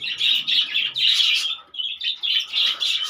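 Several small birds chirp rapidly up close in bursts of high, bright twittering with short pauses between, no voices.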